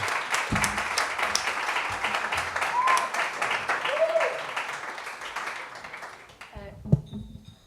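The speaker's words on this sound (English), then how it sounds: "come for the applause." Live-streamed audience applause, a dense, steady clapping close to the microphone that carries on for about six seconds before thinning out, with a few voices and a thump as it ends.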